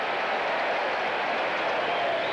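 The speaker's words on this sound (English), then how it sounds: "And the crowd cheering its approval for the strike" Crowd of more than 42,000 at a 1987 Dodgers vs Mets baseball game applauding and cheering a strike with the bases loaded, a steady, broad wash of distant crowd noise without talk.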